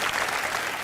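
Brief, dense applause from a studio audience on a television talk show, a continuous loud wash of many clapping hands.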